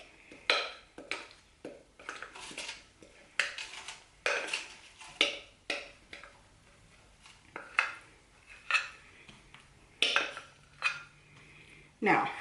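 Hot candy mixture being scraped from a pot into a pan, a series of sharp metallic clanks and scrapes of utensil against cookware at an irregular rhythm, fairly close, with quiet gaps between strokes.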